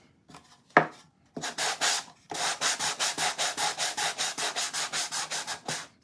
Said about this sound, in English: We're going to sand it just a little bit more.